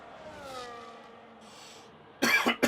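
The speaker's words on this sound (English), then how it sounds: "I do apologise for the coughing" A person coughs sharply twice near the microphone, short harsh bursts at the end after faint background sound from an F1 racing game.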